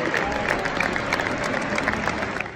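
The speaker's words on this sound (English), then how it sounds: "they held a round of applause for her" A football stadium crowd gives a sustained round of applause in the sixth minute of a match, honoring a young girl. It is a broad, continuous wash of clapping and crowd noise, fairly loud throughout.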